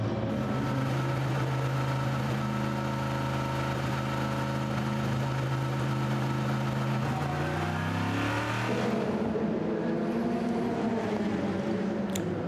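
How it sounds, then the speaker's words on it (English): The number 95 Aston Martin race car pulls out of the pits at the 24 Hours of Le Mans, its engine rising through gears in a strong accelerating drone that sweeps upward, then fades into a broad hiss of track noise. "Now the number 95 Aston Martin, Richie Stanaway now at the wheel, has just left the pits."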